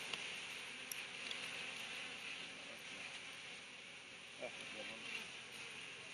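Thousands of honeybees crawl on a brood frame pulled from a hive at the Borden-Hewitt Bee Ranch in Durham, California, giving a faint, steady, droning hum with a few brief louder swells.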